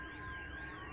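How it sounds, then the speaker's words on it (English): A wailing siren rises and falls in long sweeps, steady and fairly distant, heard after a strike on a Russian airbase in Crimea; no voices. "right here you can hear the sirens going off in the background"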